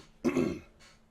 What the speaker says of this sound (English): Sorry, I just had to clear my throat there.